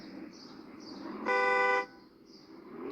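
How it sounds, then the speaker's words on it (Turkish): A single half-second car horn honk sounds over a steady engine hum, loud and close, from the online driving game Drive Zone Online. "Şöyle kornamız var."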